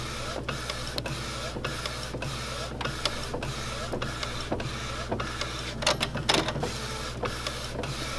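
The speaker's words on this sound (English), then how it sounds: "So it's printing now." An Epson ET-8550 inkjet printer runs a print job on one sheet, giving close, steady mechanical whirring and rapid rhythmic clicks of the print head moving back and forth, with a few louder shuffles near the end.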